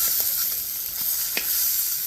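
Small fish fry in oil in a wok with a steady, bright sizzle, close and fairly loud, punctuated by a few faint stirring taps.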